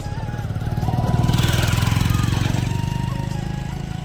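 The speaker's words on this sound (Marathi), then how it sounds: "आणि ट्रॅक्टर आपल्याच साईटने येऊ राहिला" A loud tractor engine chugs steadily with a rhythmic pulse, growing louder toward the middle and then easing slightly as it draws close.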